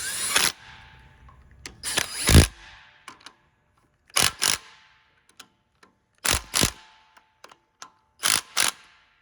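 A hand ratchet clicks in short bursts while tightening a bolt on a 2019 Hyundai Veloster engine, with several separate clicking runs spaced a second or two apart and quiet gaps between them.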